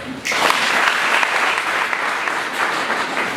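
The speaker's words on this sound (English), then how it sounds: "Can we clap for them?" A crowd at a Young Christian Society event in Kitgum breaks into loud, sustained applause, steady clapping filling the space from start to finish.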